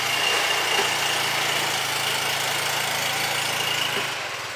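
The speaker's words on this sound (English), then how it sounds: "there's a scooter." A scooter engine runs steadily at a constant drone with a faint high whine, loud and close, without voices, tailing off slightly at the end.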